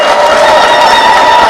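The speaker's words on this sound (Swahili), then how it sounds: "Tumpongeze kwa makofi tafadhali" An audience at a university event with the Kenyan President applauds loudly and steadily, dense close clapping mixed with some cheering that fills the whole moment.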